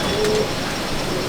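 A Madrasi pigeon coos in a loft, a short low burble close by lasting about a second, with faint background noise.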